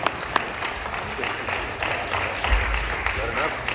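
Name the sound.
audience applause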